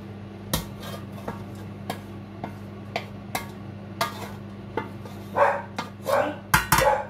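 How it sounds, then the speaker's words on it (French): A dog barks indoors, with several short, muffled barks spread out in a kitchen, mixed with clinks of pots and utensils while leek and potato gratin is prepared, and no talking. "j'ai le chien dedans qui aboie"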